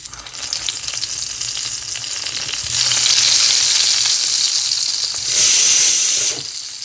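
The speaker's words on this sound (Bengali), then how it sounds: "এই যে বেগুন ভাজা করছি আমি" Eggplant slices fry in hot oil in a home kitchen, a steady close sizzle that swells louder midway and peaks briefly near the end before easing off.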